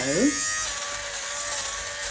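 A fabric shaver hums steadily as it strips bobbles off an autumn knit, a close, even electric buzz that keeps running without a break after a brief voice at the start.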